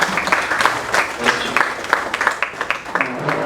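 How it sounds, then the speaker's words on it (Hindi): An audience claps in the Delhi Assembly hall during a Premchand anniversary award ceremony for writers, a dense, lively round of applause with a voice faintly audible beneath it. "सब तालियां बजाएं"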